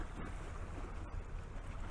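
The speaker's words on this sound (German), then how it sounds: "Ah, bisschen Wellen hier." Small waves lap and wash on open water as ships pass by, a steady broadband rush with wind buffeting the microphone throughout.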